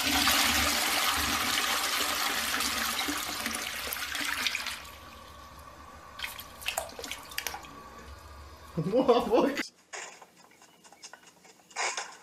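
Toilet flushing, a loud rushing surge of water for several seconds that fades into trickling and refilling, close, followed by a few brief clunks.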